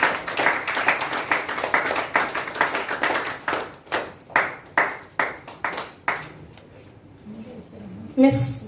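An audience at a commerce teachers' award ceremony in Kerala claps, starting as a full burst of applause that thins into a few separate, echoing claps before fading, with a brief noise at the very end.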